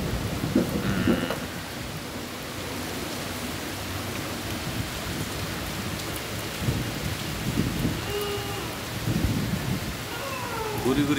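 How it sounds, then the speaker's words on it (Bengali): Steady rain falling in Dhaka during a cyclone, a continuous hiss of drops on surfaces with a few louder low rumbles, close and fairly loud, with no talking. "গুড়ি গুড়ি বৃষ্টি হচ্ছে এই মুহূর্তে"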